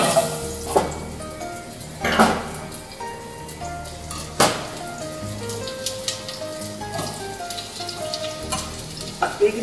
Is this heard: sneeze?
no